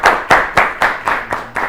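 Seven sharp, evenly spaced claps from an audience keep a steady rhythm for students on a children's TV quiz show, loud and close with no talk.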